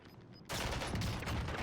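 Sudden burst of gunfire in Call of Duty Warzone breaks in after a quiet half-second, then sustained loud rapid shots with dense crackle fill the rest, close and continuous.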